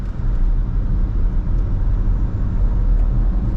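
Haval H6 GT hybrid SUV accelerating on a road, heard from inside as a steady, loud low-frequency rumble of engine and tire noise with no talking.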